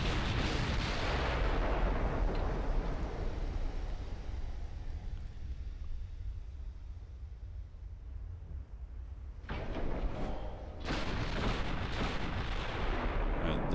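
Naval gunfire from a salvo in Ultimate Admiral: Dreadnoughts, with armor-piercing shells against a 100,000-ton battleship. Heavy booming blasts roll on continuously, ease into a lower rumble, then a second loud volley erupts and carries to the end.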